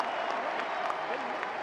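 Crowd applause and cheering at a US Open tennis match between Jannik Sinner and Tommy Paul, a steady dense roar of clapping that fills the whole moment at moderate level.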